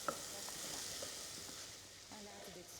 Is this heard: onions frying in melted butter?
yes